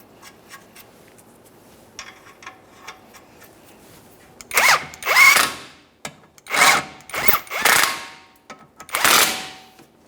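Suspension knuckle mounting nuts on a Toyota Sienna are driven with an impact tool in a series of loud, rattling bursts of a second or less, following faint clicks and handling noises.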